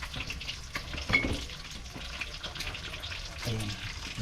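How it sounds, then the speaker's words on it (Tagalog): Hot cooking oil spattering in a pan while frying at home, soft crackles and pops with occasional clinks of cookware, fairly quiet and close. "Tumatalsik yung mantika."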